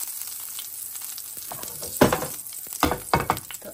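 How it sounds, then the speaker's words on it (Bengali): Black cumin seeds tempering in hot soybean oil in a frying pan: a steady hiss builds into bursts of crackling sizzle with stirring scrapes, close and loud, no talk. "ওই তেলের মধ্যেই একটু কালিজিরা ফোড়ন দিয়ে দেব।"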